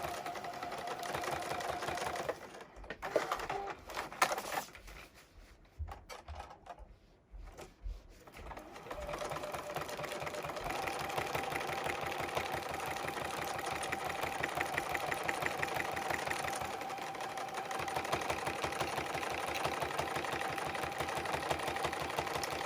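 A home sewing machine quilting a baby space turtle quilt runs in a steady, close, buzzing whir for most of the stretch, briefly pausing and slowing midway before resuming at an even pace, with no talking.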